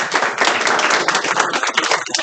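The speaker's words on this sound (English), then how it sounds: "Okay, I got some claps." An audience at a school senior capstone presentation claps for about two seconds, a dense, even patter of many hands, fairly loud and close, with no talking.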